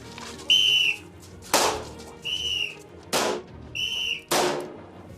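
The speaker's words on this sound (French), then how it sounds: "si tu entends un coup de sifflet, c'est que tu seras en légitime défense" Three sharp whistle blasts, each followed by a loud bang, alternating in a steady pattern, during police shooting training.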